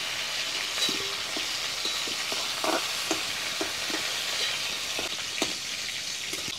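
Cauliflower and potatoes frying in oil, a steady bright sizzle with occasional crackles and spoon scrapes, close and continuous with no talk.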